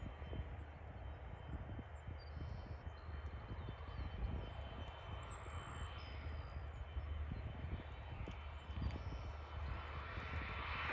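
A Bombardier Global 8000 business jet at an airport, its engines a steady low distant roar and hum that holds throughout without notable change.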